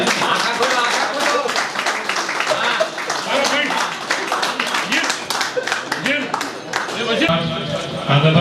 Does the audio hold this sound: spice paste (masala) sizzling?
no